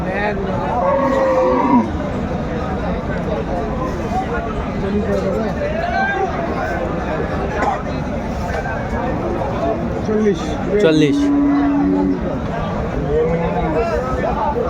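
Cattle, including large bulls, moo repeatedly amid a busy outdoor livestock market crowd in Dinajpur, with people chattering and calling nearby; one long low moo stands out near the end.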